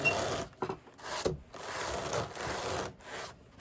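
Hand-cranked wool carder, unclamped and in need of oiling, working Romney and llama wool: dry, scratchy rubbing and brushing strokes come in irregular bursts with short pauses, close and moderately loud, with no talk.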